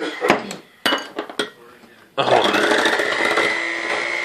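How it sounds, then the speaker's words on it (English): An electric mixer with a whisk attachment beats macaron batter. A few sharp clinks of bowl and utensils come first, then the motor starts with a loud, steady whine that runs to the end. "Electric mixer."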